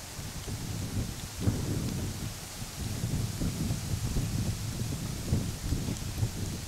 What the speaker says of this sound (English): Cool, windy, rainy day.